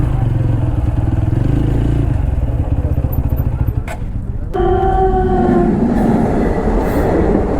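Lalgola Passenger train rumbling past a roadside spot during a motorcycle ride, loud and close: a continuous heavy roll of wagons, briefly cut by a gap, then resuming with a humming engine tone alongside.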